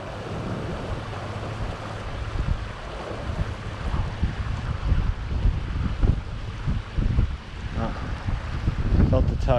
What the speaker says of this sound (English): But man, that wind is pushing my leader